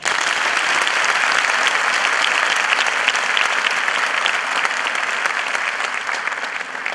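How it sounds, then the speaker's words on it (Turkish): Loud, sustained applause from a large seminar audience, steady clapping that fills the whole stretch and tapers slightly toward the end. "bir alkış rica ederim"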